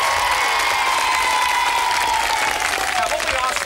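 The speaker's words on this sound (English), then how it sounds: "A round of applause I think I deserve for that." Audience applause, a dense wash of clapping with some cheering from a crowd, steady and loud for a few seconds.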